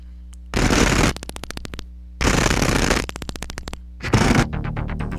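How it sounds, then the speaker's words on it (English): AI-generated explosion sound effect made in Suno AI: three loud, broad bursts, each followed by rapid crackling, stuttering debris pulses. "So it does give you a couple of explosion sound effects in the beginning"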